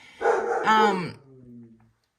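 A dog barks indoors, two close, loud, yelping barks in quick succession trailing off into a whine-like fade.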